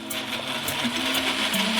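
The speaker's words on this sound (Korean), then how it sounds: "마지막으로 다 같이 갈아주세요." A blender whirs steadily at close range blending a melon mint milkshake with ice cream and syrup, its motor pitch shifting slightly as it churns, loud and continuous throughout.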